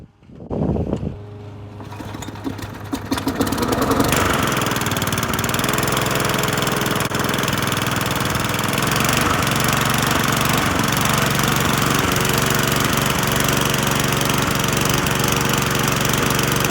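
A freshly tuned-up lawnmower engine sputters to life after a few cranking attempts, then settles into a loud, steady running drone close by, with no voices.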